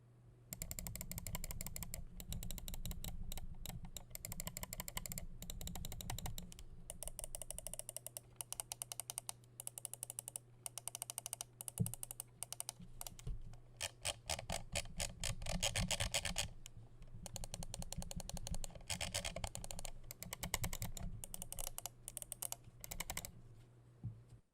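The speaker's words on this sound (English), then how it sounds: "The mouse uses Wano 60 gram switches that just feel and sound nice." Vaxee Zygen NP-01 gaming mouse with Wano 60 gram switches clicks close up in rapid, uneven bursts and fast runs, with short pauses between them and no talking.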